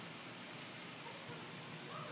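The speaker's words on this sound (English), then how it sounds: "This is the rain." Rain falls outside as a steady, dense hiss that is unbroken and moderately loud, with no voices.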